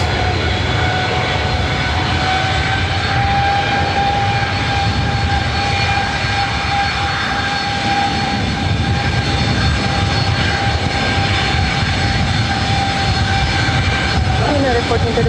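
Jet airliner engines roaring at LAX airport, a loud and sustained thunderous rumble with a steady whine running through it, close at hand and constant throughout, with radio voices heard faintly.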